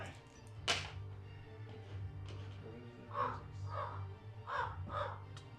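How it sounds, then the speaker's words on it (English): A crow gives a short run of harsh caws, four or so calls in quick succession, faint and set against a low, steady background hum. "bird noise"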